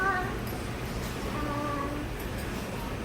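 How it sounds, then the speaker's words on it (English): Young cats meow in several thin, rising calls over a steady background hum, close by, with faint voices in the background. "They meow."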